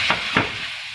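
Brinjal bhartha with fresh coriander gets stirred and mixed in a pan, two short scraping strokes over a steady sizzling hiss, close and fairly loud.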